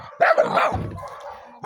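Dogs bark and yip close by in a short, loud volley, with a whimpering, whiny edge between the barks.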